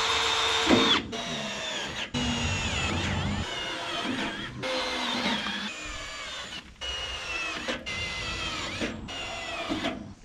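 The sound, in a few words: drilling pilot holes with a cheap Harbor Freight drill bit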